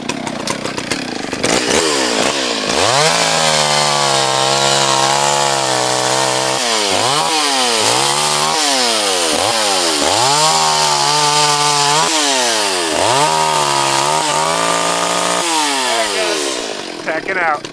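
A Stihl chainsaw, an MS 310 or 034 AV Super, cuts through wood up close, loud and continuous, its engine revving up and dropping back repeatedly as the chain bites and eases off.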